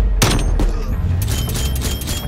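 Gunfire in Call of Duty: Cold War, loud bursts of shots and booms crowding together, a couple of sharp reports early then a dense continuous fusillade, with a voice briefly underneath.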